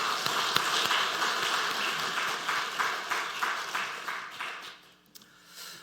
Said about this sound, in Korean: 주일 경배 찬양팀을 위해서도 축복하고 격려하는 박수 하겠습니다.